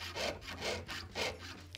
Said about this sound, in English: I'll just keep the saw in approximately the same place and just rotate the metal into the saw frame